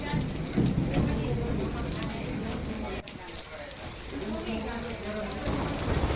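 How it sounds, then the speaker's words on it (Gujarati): Steady heavy unseasonal rain with strong wind in Shinor, Vadodara, a gusting, broadband rush throughout, a brief dip midway, with no voices standing out. "ભારે પવન સાથે કમોસમી વરસાદ પડ્યો"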